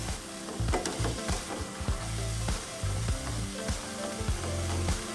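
Chopped jalapeno sizzles steadily in a hot pot on the stove. A loud, continuous crackle of frying is broken by the scrape and clatter of stirring.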